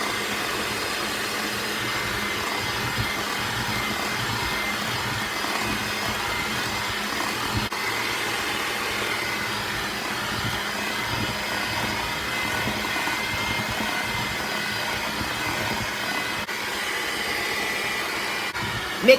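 Electric mixer whirring steadily while blending cookie dough ingredients for cranberry white chocolate chip cookies, a loud continuous motor drone with a slight tonal rise partway through.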